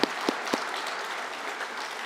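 Steady applause from an audience at a high school senior honors night, a dense continuous wash of many hands opening with a few louder claps up front, sustained and moderately distant.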